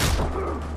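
Far Cry 4 gunfire, a single loud close burst with a booming blast that fades quickly.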